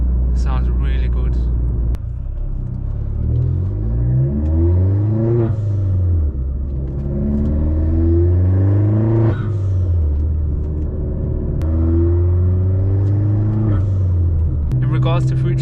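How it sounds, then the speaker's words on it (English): A Vauxhall Corsa VXR with a 3-inch Cobra exhaust, back box delete, induction kit and dump valve drives with a deep engine rumble rising and falling through gear changes, heard from inside the car under almost constant talk. "3-inch exhaust, Cobra, and then obviously induction kit, dump valve, all of that sounds really good"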